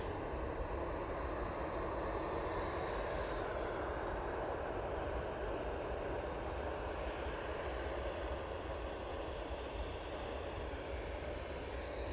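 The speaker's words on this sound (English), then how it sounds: "EasyJet A320 going off to Zurich next." An EasyJet Airbus A320 taking off for Zurich, heard as a steady, distant engine roar that holds at an even level throughout.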